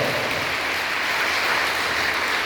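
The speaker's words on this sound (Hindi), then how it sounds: "तो स्वागत करेंगे इनका जोरदार तालियों के साथ" An audience at a Women's Day celebration at a girls' school applauds a student, a loud, uniform wash of clapping that holds steady throughout with no talk.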